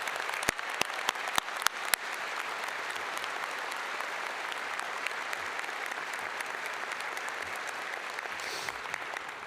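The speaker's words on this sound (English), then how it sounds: "A round of applause for Wendy Winterstein." A large commencement crowd at Iowa State University's College of Veterinary Medicine applauds the university president, sustained dense clapping with a few sharp close claps at the start.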